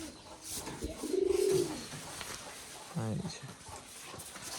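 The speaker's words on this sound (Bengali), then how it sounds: "এর মধ্যে অনেক ঘনবাজির কবুতর আছে" Pet pigeons cooing inside a small indoor home loft, two short low coos standing out against steady background noise and rustle, with a voice faint in the mix.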